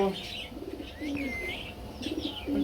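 Caged pigeons cooing in soft, repeated low calls through a short stretch, with faint chirps and rustling around them.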